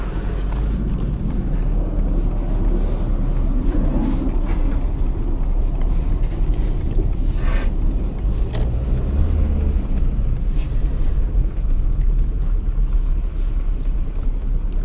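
A 2003 VW Jetta TDI turbo diesel runs and drives, a steady low engine drone mixed with road and wind rumble, close and continuous for the full stretch with no speech.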